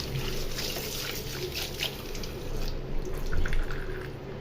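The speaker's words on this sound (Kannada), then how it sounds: "ಇವಾಗ ವಾಶ್ ಮಾಡ್ತಾಯಿದ್ದೀನಿ ಚೆನ್ನಾಗಿ ವಾಶ್ ಮಾಡಬೇಕಿದ್ದೀನ ಇದನ್ನು" Amaranth greens (dantu soppu) are washed in water, giving a close, continuous splashing and trickling with small drips and swishes that swell near the end, with no one talking.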